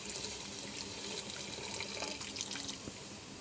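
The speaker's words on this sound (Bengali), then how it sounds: "এখন এটার জল এখানে দিয়ে দিই" Water poured steadily while cooking a Rayalaseema recipe, giving a continuous close splashing and gurgling with no talking.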